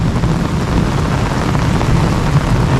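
Heavy rain pours during a severe storm in Mumbai and Thane, a dense, steady, loud wash of noise with no clear break and no voices.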